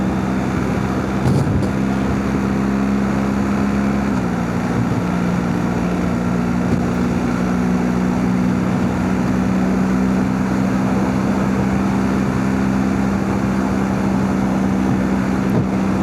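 Steady motorbike engine and road drone while riding on a new set of tyres, a continuous low hum with a gear or speed change partway through, mixed with wind rush across the microphone.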